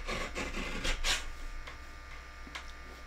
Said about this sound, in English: So I attached my silver and then I'm trimming it after.